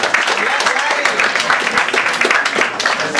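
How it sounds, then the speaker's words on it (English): An audience at an open mic poetry reading in Louisiana claps for a poet, a lively patter of hand claps with scattered sharp individual claps, and some talking mixed in. "Give him a round of applause."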